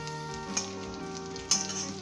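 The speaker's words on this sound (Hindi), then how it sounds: "उसके बाद हम इसके अंदर ये प्याज शामिल करेंगे और इसे हमने सुनहरी नहीं करना, हमने जस्ट इसे सॉफ्ट होने तक कुक करना है।" Chopped onions fry in oil in a pan for Pakistani boondi salan, a steady close sizzle with a couple of louder crackles as they are stirred.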